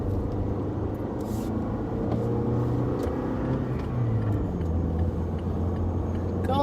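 A 2016-19 Toyota Tacoma pickup with the 2.7 engine and manual gearbox pulls hard, its engine a steady, close, low droning rumble with road noise that holds throughout, no voices.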